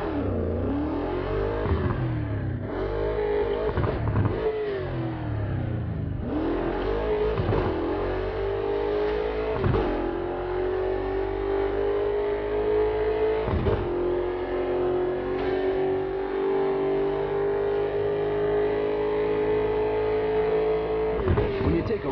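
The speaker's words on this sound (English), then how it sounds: "Hold the accelerator to fire up the engine." In the Burnout Paradise Remastered racing game on PC, a car engine starts and revs repeatedly in rising bursts, then settles into a steady, sustained high drone, loud and close, with a voice speaking over it.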